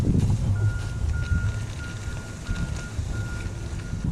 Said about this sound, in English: I'm gonna preemptively apologize for the construction and all the noise going on in the background right now